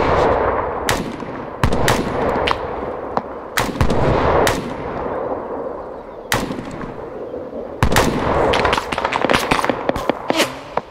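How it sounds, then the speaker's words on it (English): Gunfire in the Arma 3 video game, with sharp close shots in irregular bursts and clusters over a rumbling background, some rapid volleys and scattered single cracks, and no voices. "Oh, somebody else is shooting at me."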